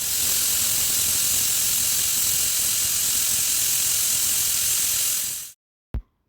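A pressure cooker cooking pongal on a kitchen stove lets out a continuous, even hiss of steam for over five seconds before it stops abruptly, followed by a single short click.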